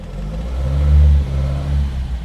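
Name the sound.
big bore B20 Volvo Amazon engine revving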